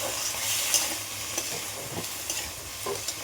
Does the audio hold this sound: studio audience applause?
no